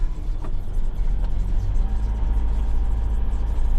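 A Scania 143 truck engine runs with a deep, steady rumble that swells slightly as the lorry moves off, heard close and continuous with no talk.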